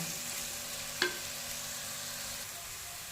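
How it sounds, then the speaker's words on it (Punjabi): Onions frying in a pan for a light cooking, a steady quiet sizzle running throughout with one brief clatter of a utensil near the middle. "ਪਿਆਜ਼ਾਂ ਨੂੰ ਵੀ ਹਲਕਾ ਜਿਹਾ ਇਹਨਾਂ ਨੂੰ 1 ਤੋਂ 2 ਮਿੰਟ ਅਸੀਂ ਪਕਾ ਲੈਂਦੇ ਆ"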